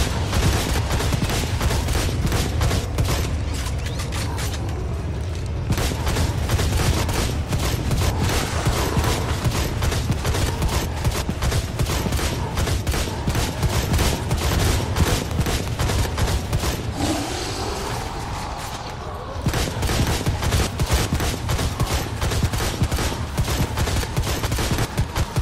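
Gunfire in the video game Blades of Time goes on without pause, rapid loud shots hammering away in a dense barrage for nearly the whole stretch, with one short lull before the shooting resumes.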